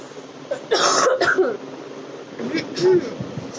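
A person coughs two or three times in quick harsh bursts, close and loud, during a live session from a shop, followed by softer throaty, voice-like sounds.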